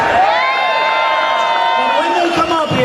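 A crowd at a gun-rights liberty rally cheers and shouts for gubernatorial hopefuls, a loud dense swell of many voices and whoops that holds steady throughout.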